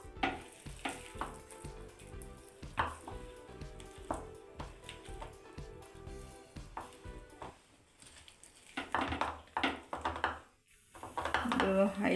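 Pakora batter dropped into hot oil, with a sharp sizzle and crackle building into a louder frying hiss near the end, plus rhythmic clatter and tapping, close, with speech over it.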